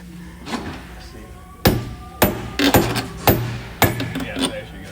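Several sharp metallic hammer strikes on an aluminum driveshaft ring out at irregular intervals, close and loud, over faint background noise.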